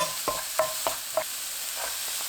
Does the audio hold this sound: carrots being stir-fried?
yes